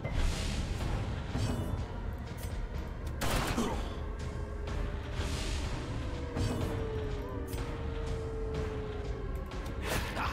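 Blanket Fire gunfire skill from the Darkest Dungeon video game, Color of Madness expansion: a dense, continuous stretch of loud game gunfire and impacts that carries through the whole span, with a sharp burst a few seconds in.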